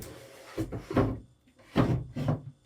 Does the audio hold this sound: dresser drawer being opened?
yes